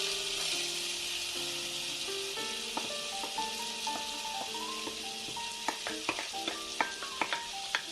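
Garlic and spices sizzling with potatoes in a pan for scrambled tofu, a steady bright frying hiss under stirring, with clinks and knocks of a utensil against the pan growing sharper toward the end.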